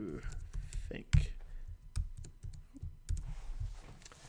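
Typing a comment on a computer keyboard, with soft, uneven key taps under a person talking nearby.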